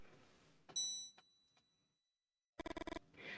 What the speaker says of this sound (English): Suddenly the bell rings